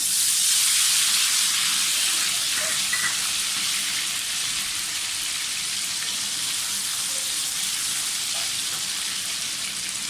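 Garlic ginger paste sizzles in hot oil with cardamom, cinnamon and black pepper, a steady loud frying hiss that runs unbroken and close throughout.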